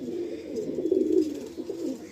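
A pair of Lalchera pigeons coos in a soft, continuous rolling murmur. The sound is close and steady, with no voices heard.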